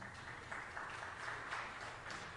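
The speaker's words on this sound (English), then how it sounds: "Please give them a round of applause." A church audience gives soft, steady applause, heard faintly from a distance as an even wash of clapping with no voices.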